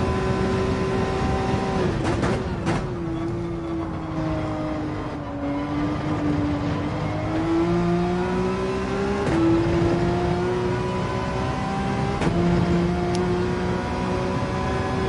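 A Porsche 911 RSR race car engine at speed on the Dragon Trail Seaside circuit in Gran Turismo 7, heard as a steady, loud, close whine that drops and climbs again with several gear shifts, with no talking.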